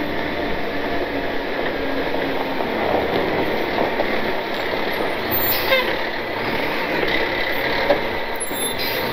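Farm trucks with air brakes pull up to a storage barn, giving a steady, loud rumble of engines and road noise with faint brake hiss and squeaks near the end, no talking.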